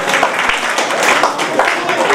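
Audience applause for a town's mayor at a public gathering in Darbhanga, a dense, steady patter of many hands clapping close by, with a few voices mixed into the crowd noise throughout.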